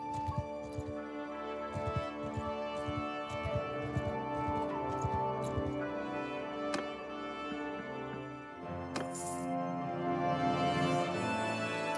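Rhythmic horse hoofbeats in the video game Mount & Blade II: Bannerlord clop along in the first half under quiet music, then fade as the music continues with a bright shimmer near the end.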